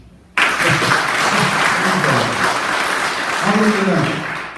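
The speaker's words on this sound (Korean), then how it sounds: "너무 잘 박수 한번 쳐주세요" Audience applause at a Korean evangelism movement event with a pastor's sermon, a sustained wash of clapping starting abruptly and continuing under voices talking throughout.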